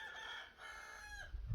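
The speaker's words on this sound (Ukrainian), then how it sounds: "Це мої півні вже співають." Roosters being treated for a cold: one crows in a long drawn-out call, with another crow overlapping, fairly faint and distant, followed by a brief low thump.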